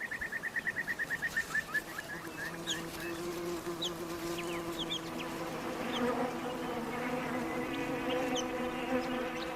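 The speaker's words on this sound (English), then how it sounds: "They are joined by flower wasps." Flower wasps buzz steadily around banksia flowers in the Australian bush, starting with a rapid pulsing flutter and settling into a continuous close drone, while scattered bird chirps sound faintly in the background.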